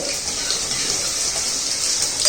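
Mustard seeds spluttering in hot oil at the start of a Chettinad-style fish kulambu, a steady, close, loud frying sizzle and crackle throughout, with no talking.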